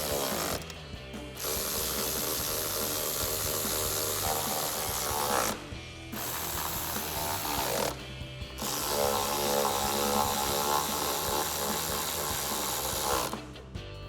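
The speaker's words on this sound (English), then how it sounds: "To tighten these two nuts and these two bolts down, we're going to be using a 10mm socket, socket extension, and a ratchet." Ratchet with a 10mm socket and extension tightening nuts and bolts while installing powered heated folding mirrors on a RAM 1500 pickup; dense continuous mechanical clicking fills the clip, broken by a few brief pauses.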